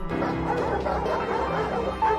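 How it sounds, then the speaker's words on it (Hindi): Several dogs bark in quick, overlapping bursts, loud and close, over a steady busy background with no voice speaking. "कुत्ते भौंकने लगे"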